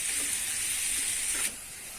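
Onions with salt sautéing in a hot pan, a loud steady hiss of frying that drops off sharply near the end.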